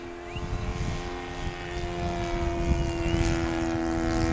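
A biplane's engine and propeller drone steadily in flight, a loud sustained hum with strong low harmonics that builds slightly in intensity, with no voices over it.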